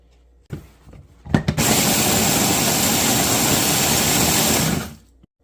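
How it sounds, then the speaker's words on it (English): A food processor whirs loudly and steadily for about three and a half seconds while chopping chili peppers, after a few clicks and a brief start-up. It cuts off abruptly at the end. "we have all of our peppers in our food processor here. Let's give these a spin."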